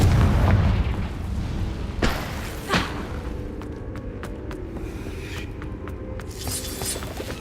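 Confringo fire spell explosions in the video game Hogwarts Legacy: a couple of heavy booming blasts land close together, followed by sharp snapping clicks over steady game background noise.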